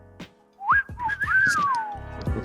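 Someone whistles a short, sliding melodic phrase, close and clear, with a few soft clicks and rustles around it.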